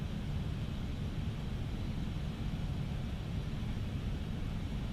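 Engines of an FSLabs Airbus A321neo in Microsoft Flight Simulator 2020 give a constant, deep, full drone that holds at an even level without change from start to finish.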